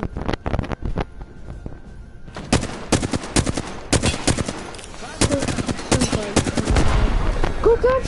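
Bursts of automatic gunfire and single shots ring out in a shooter video game, loud and rapid, coming in repeated volleys with short gaps, while players shout over the action.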